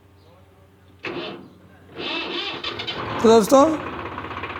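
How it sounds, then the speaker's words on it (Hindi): A Swaraj 735 tractor engine, just repaired for a sound problem, cranks and fires up, then settles into a rough idle, with someone talking over it and a couple of sharp mechanical squeals near the end. "अभी हमने इसको स्टार्ट किया है, तो अभी आप देख सकते हैं स्टार्ट हो चुका है ट्रैक्टर।"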